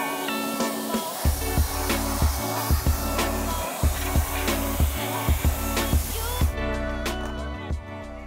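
Wheel cleaner sprayed from a trigger bottle onto car wheels, a quick series of a dozen or so sharp hissing spritzes in an uneven rhythm, close and loud, with no talk.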